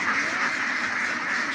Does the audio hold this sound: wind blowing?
no